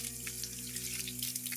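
Tap water runs steadily into a sink while hands are washed, a continuous close splashing wash with no talking.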